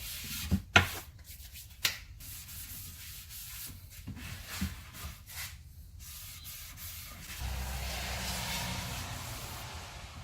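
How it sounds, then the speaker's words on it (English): Sawdust is wiped off a freshly sanded wooden chopping board by hand, a close, dry rubbing and brushing with a few sharp knocks early on, then a steadier, louder scrubbing toward the end. "So I'll just give that a wipe over now, get all the dust off it, all the sawdust"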